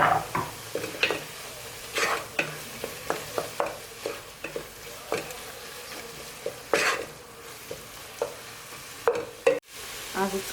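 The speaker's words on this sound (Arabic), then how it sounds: "هنا غنزيد الدجاج ديالي اللي درت له شويه الملحه، بزار وثومه بودر" Chicken seasoned with salt, pepper and garlic powder frying in a pan, with soft sizzling under repeated sharp scrapes and knocks of a utensil stirring against the pan.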